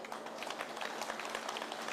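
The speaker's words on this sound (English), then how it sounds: "A bigger and stronger round of applause." Audience applause at a real estate presentation for a luxury housing development, a dense, even patter of many hands clapping, moderately faint and distant, continuing steadily without talk.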